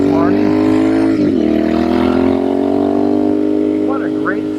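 Royal Enfield Bear 650 motorcycle with a Dustland shotgun high pipe exhaust running close by, a steady deep parallel-twin drone with rising and falling revs, with someone talking over it.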